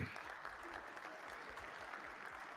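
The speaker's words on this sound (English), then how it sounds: "Oh, yay, they're clapping for somebody." Applause from a televised congressional session, faint and distant, plays as a steady wash of many hands with a muffled low rumble underneath.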